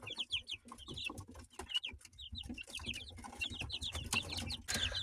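Many small chicks cheep continuously in high, rapid peeps, with soft scratching and shuffling close by in a homemade brooder box.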